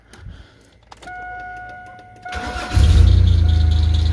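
A Chevy S10 truck engine cranks with a whining starter, then catches and settles into a loud, steady idle, close by with no talk.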